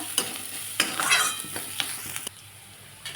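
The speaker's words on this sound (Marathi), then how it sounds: "कांदा हा आपला भाजण्यात आलेला आहे" Onion frying in a pan for samosa filling, with a steady close sizzle and several sharp scrapes and clinks of a spoon stirring against the pan, no voices.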